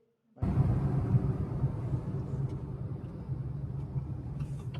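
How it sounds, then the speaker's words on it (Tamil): Steady highway traffic rumble heard from inside a moving car, a continuous low road and engine drone that holds at an even level throughout with no voices. "சும்மா இருந்தால் கூட இங்கே டிராஃபிக்காக தான் இருக்கும் போல இருக்கு ஃபுல்லாக ஹைவே ஃபுல்லாக டிராஃபிக்"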